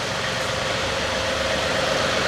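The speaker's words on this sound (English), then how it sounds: "All right, we've got the tractor running." Tractor engine idling steadily nearby, a continuous low rumbling drone with a rhythmic mechanical knock, loud and unbroken with no talk.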